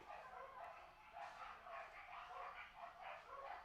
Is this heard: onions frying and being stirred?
no